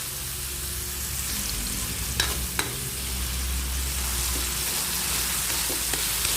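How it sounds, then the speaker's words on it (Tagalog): Tomatoes being crushed and stirred in a frying pan give a steady sizzle with a low rumble beneath and a few sharp clicks of the utensil against the pan. No one speaks. "Yun, ang kamatis dapat durugin siya."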